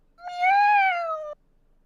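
A single human voice mimics a cat's meow, a drawn-out rising and falling call of about one second, clear and close with nothing else around it.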